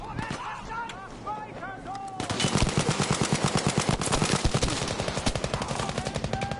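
Rapid automatic gunfire in the World War II shooter game Battlefield V bursts in loud and sustained after a brief lull with voices, hammering in a fast, even rhythm until the end.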